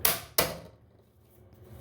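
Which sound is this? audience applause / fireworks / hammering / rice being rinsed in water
hammering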